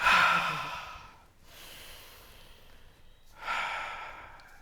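A person takes a deep breath, a long audible exhale followed by a softer inhale and another breathy exhale, close and intimate with no talking.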